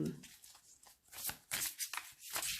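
Tarot cards shuffled by hand, slippery cards riffled in several soft, quick bursts of papery flutter, close and fairly quiet.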